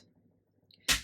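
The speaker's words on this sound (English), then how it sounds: "You still just punch through one layer" A single sharp crunching paper punch through one layer of paper near the end, loud and brief, after a stretch of near silence.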